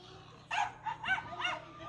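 A puppy gives a run of shrill, goat-like yelps, four or five rising and falling cries close by over a faint steady room hum.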